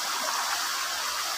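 A river flows in a rural province setting, giving a steady, even rush of water that holds constant and close throughout, with no voices.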